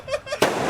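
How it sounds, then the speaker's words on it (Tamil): A Diwali firecracker lit in a Jaffna village crackles briefly, then goes off in one sharp, close bang that trails into a short rumbling decay. "அந்த வெடி வந்து கொளுத்தி பார்க்குறோம்."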